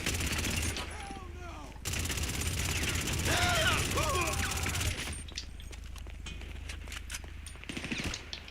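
Rapid video-game gunfire emptying a full magazine in GTA 5 Online, a dense stream of shots over a steady background rumble, with a person talking over it.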